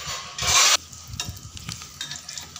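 Pakoras dropped into hot oil for dahi kadhi give a short, loud burst of sizzling, followed by quieter bubbling and soft utensil clatter.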